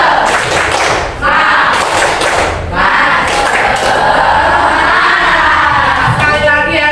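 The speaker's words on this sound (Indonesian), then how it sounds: "Kita tepuk semangat dulu ya" A crowd of teachers at a school coaching session does the rhythmic spirit clap, loud patterned hand claps and thumps filling the room with shouts mixed in.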